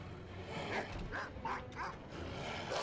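Small dog in the LEGO Harry Potter video game yips and whimpers in several short bursts, moderately loud against a steady background of game noise.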